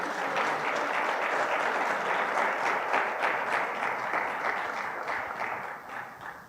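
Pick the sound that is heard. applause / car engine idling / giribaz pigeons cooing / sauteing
applause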